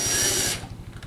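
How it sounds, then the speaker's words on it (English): A cordless power drill drives a screw into a Rinnai tankless water heater during flame rod service. A brief loud whir runs for about half a second, then stops, leaving a quiet room. "Now, I use a drill. I know the torque on it"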